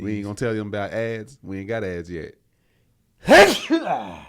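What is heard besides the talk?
sneeze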